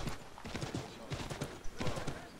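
Horse hooves clip-clop at a steady walking rhythm in the Assassin's Creed 3 game world, moderately close and fairly quiet, with faint background sound and no voices.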